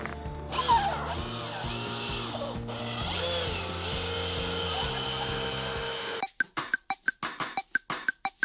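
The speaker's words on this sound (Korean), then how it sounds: "이 자리에 바로 이 패드를 장착했는 전동 드라이버로 한번 다시 작업을 해 볼게요" An electric screwdriver in drill mode spins a polishing pad against wet car window glass, giving a steady whirring drone for about six seconds before it cuts off into short, sharp bursts.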